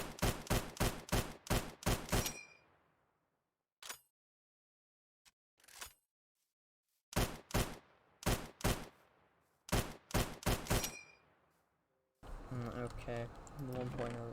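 Rapid bursts of gunfire from a gun in a Modern Warfare mod video game, several quick volleys separated by silent gaps and a few isolated shots, followed by a denser stretch of game noise at the end.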